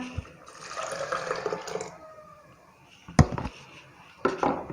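Chickpea cooking water is poured into a pot of chickpeas in a home kitchen, a short splashing gush of liquid followed by a few knocks and clatters of utensils.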